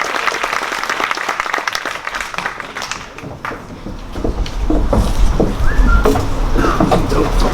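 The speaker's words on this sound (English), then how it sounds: "How about a final round of applause?" Sustained applause from a crowd at a high school graduation ceremony, dense and steady clapping that swells louder toward the end.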